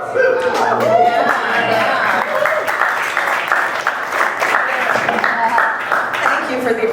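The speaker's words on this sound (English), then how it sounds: "Thank you for the applause" Audience at a stand-up comedy show applauding and cheering, a dense, loud wash of clapping lasting several seconds with whoops and murmured voices mixed in.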